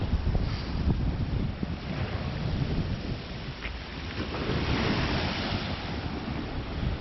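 Sea waves wash and splash onto the shore at Hornsea, a continuous loud roar of surf with rolling surges and no voices.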